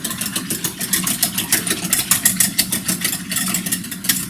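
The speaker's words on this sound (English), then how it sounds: "We're going to whisk these eggs and milk together." Eggs being whisked with half and half milk and cream for a vanilla cream pie filling, a steady, rapid rhythmic clatter of the whisk against the bowl, close and fairly loud throughout with no talking.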